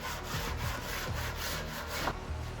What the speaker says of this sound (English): Just a quick final sanding to clean everything up